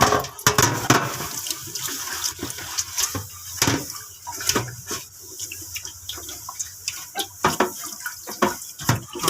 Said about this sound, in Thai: ต่อไปเราก็ล้างฐานนะคะ